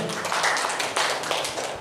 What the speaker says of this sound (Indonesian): Tepuk tangan untuk PT BES.